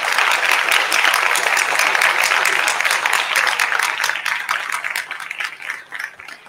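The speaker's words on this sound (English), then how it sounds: "So could you join me, please, and give Dr. Julie Smith a big round of applause?" Sustained applause from an audience at a sixth form college talk, steady and dense clapping that thins out toward the end.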